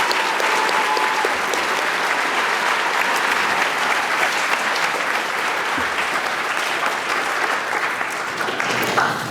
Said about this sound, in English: Please give a round of applause to the Air Force veterans.